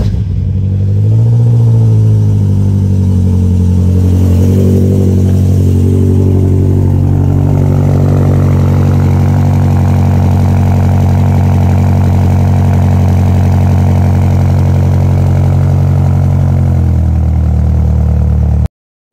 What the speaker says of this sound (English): people are looking for a cold start. This is as cold as it's gonna get.